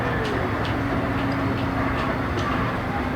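Disneyland Railroad excursion train car at night, a steady loud rumble of wheels on track with faint periodic clicks of rail joints throughout, no talking.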